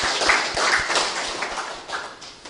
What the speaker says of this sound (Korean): 우리 박수로 역시 부탁드리겠습니다